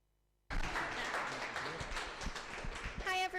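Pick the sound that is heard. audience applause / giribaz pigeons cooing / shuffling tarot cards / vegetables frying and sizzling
audience applause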